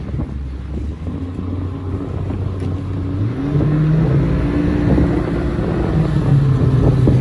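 A Carolina Skiff outboard motor runs steadily at about three-quarter throttle on the water, its droning hum shifting pitch midway, with wind buffeting the microphone throughout.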